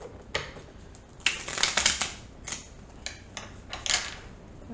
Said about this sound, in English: Do a fan shuffle.